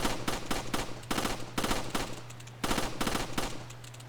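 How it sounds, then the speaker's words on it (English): Three-round burst gunfire from a weapon in Resident Evil 4, loud repeated triplets of sharp shots fired in quick succession, several bursts in a row with short gaps, alone with a steady low hum beneath. "And it's just 3-round burst."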